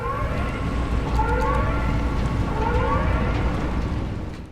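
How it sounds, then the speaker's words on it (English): A storm siren from the video game Pacific Drive, modeled on an air raid siren, wails in repeated rising and falling sweeps over a dense, rumbling, rain-like wash, loud and sustained. "The Storm Siren is a sound in the game that triggers when the storm starts to close around the player."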